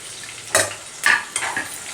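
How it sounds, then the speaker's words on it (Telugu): Carrots, beans and green chillies stirred in a hot pan, a few scraping spoon strokes over a light sizzle, close and without talk. "ఇవి వేగేదాకా కలుపుకుందాం"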